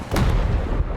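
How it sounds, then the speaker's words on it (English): Mortar fire in the war game Armored Brigade II: a single loud, close boom with a sharp onset and rumbling low tail lasting about a second. "Alright, mortars ready. Let's drop some mortars."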